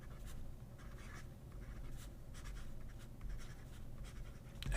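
A fountain pen fitted with a Delta nib scratches steadily across paper, a soft continuous scritch with brief pauses between strokes, close and quiet.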